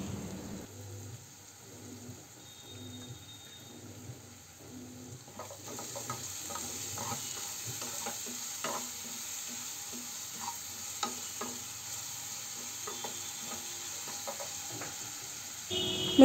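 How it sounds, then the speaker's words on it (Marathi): Chopped onion sautéing with salt in a pan for Maharashtrian zunka: a low, steady fry with repeated light scraping and clicking of the spatula picking up after the first few seconds, close by and without speech. "मीठ घातल्यानंतर याला 1-2 मिनिटं परतवून घ्यायचं"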